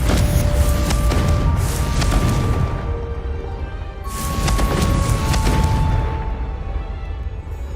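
Confringo blasting curse from Hogwarts Legacy, two loud booming explosions a few seconds apart, each swelling and rumbling before fading, with a low continuous roar underneath.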